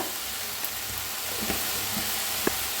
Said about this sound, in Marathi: भाजून घेऊया।